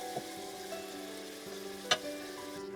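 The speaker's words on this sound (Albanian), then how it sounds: "Të vazhdoj të skuqje." Beef chunks fry in a pot for an Albanian çomlek, a steady close sizzle broken by a few soft stirring knocks and one sharper clack.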